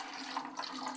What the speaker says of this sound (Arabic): ومن بعد كنصفيو دوك الماء